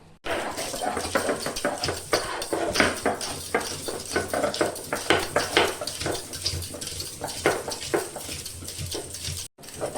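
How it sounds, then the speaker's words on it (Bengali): Ginger, garlic, green chilli and a little onion ground together into a paste, a steady, dense grinding and rubbing that runs loudly throughout with brief gaps. "আদা, রসুন, কাঁচা লঙ্কা আর অল্প পেঁয়াজ আমি একসাথে বেটে নেব"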